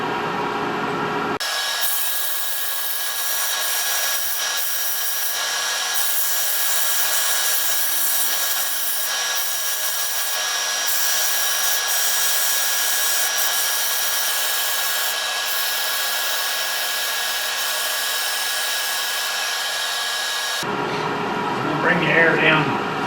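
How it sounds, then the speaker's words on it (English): Steady, loud abrasive hiss of sanding on a wooden catfish carving, running continuously for about twenty seconds before stopping; a voice talks briefly near the end. "Do a little sanding"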